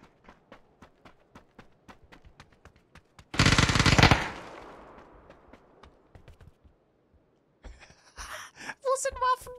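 Gunfire in an online shooter: a steady run of sharp single shots, then a dense loud burst of automatic fire for about a second, more scattered shots after, and players talking near the end.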